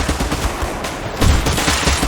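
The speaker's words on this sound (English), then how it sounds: "we would match it to what a gunshot sounds like" Synthesized gunfire built for the game S.T.A.L.K.E.R.: Shadow of the Zone, modeled on suppressed and unsuppressed weapons, compressed with reverb: loud, dense bursts of shots in rapid succession with a harder volley midway.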